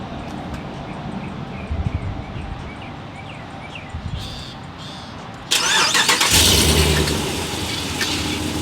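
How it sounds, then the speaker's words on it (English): Stock RAM 1500 pickup truck cold-starting: quiet ambient noise first, then the engine cranks and catches midway with a sudden loud burst, settling into a strong steady run close by. "I'm gonna give you guys a cold start or crank up"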